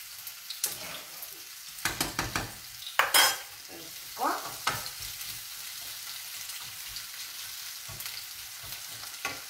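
Artichokes cook in a pan with a gentle sizzle, broken by several bursts of stirring and scraping in the first half. The sizzle then settles into a quieter, steady fry.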